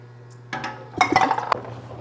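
Glass jars of green beans are set down into a pressure canner, giving a short burst of bright clinks and knocks against metal and each other, close and alone over a low hum.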